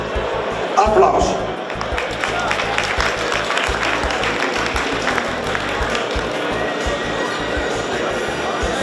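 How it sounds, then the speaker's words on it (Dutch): An indoor winter show audience claps loudly together, a dense rolling applause that swells briefly near the start and then holds steady, with faint crowd noise and a low rhythmic thump underneath. "Applaus."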